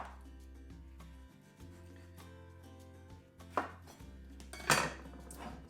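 Knife chopping ingredients on a board while making pork and coleslaw burgers, a few soft cuts over a low steady hum, with a couple of sharper knocks near the end.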